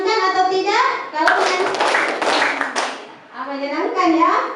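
Schoolchildren in a classroom clap their hands in a brief burst, framed on either side by a teacher's voice talking.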